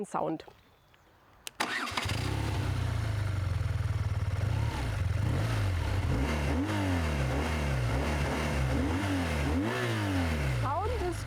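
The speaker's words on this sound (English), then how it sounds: "The sound is really nice and punchy. I love it. Proper punchy boxer sound." A BMW boxer-twin motorcycle starts after a short quiet moment at a BMW Motorrad festival. It settles into a loud idle, then rises and falls through a series of sharp, punchy throttle blips close by.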